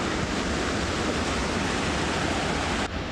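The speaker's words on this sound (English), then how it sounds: "Look at the river here." Rushing water roars continuously and loud, a dense steady flow like a river running close by in the Eastern Sierras near Big Pine Lakes, with no voices.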